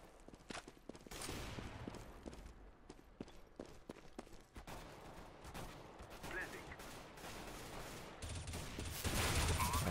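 Gunfire in Counter-Strike: Global Offensive, quiet sharp shot cracks and bursts scattered among footsteps, firing through smoke, with the rattle growing louder and denser toward the end.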